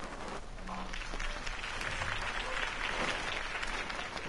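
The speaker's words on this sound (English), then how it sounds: "If only Mr. Wayne, my campaign's largest backer, could have heard that applause" A crowd claps steadily and loudly in a Batman video game, sustained applause with some cheering mixed in, filling the whole stretch.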